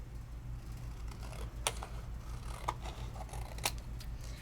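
Scissors snip through stencilled card in a quiet room, giving three or four sharp, faint cuts spaced about a second apart over a low steady hum.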